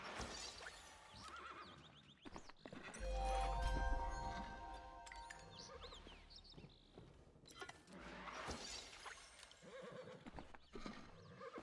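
A horse in a ranching video game whinnies loudly twice, alongside clip-clop hoofbeats and game effects; no one speaks.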